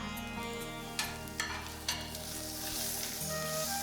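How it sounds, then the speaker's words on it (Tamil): Roasted peanuts go into a hot pan with a few sharp clattering drops, then a steady close sizzle and light stirring continues, no voices. "இப்போ இந்த வறுத்து வச்ச பத்தியில் கடலை அதை அதில் போட்டுப்போம்"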